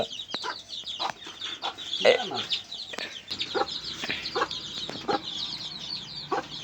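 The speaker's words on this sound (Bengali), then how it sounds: "বাচ্চা মুরগি কেবল এগুলো বাইরে তুলাছি" Young desi chicks on a poultry farm give a dense, continuous chorus of high peeping and clucking calls, close by and fairly loud, with scattered sharper chirps throughout.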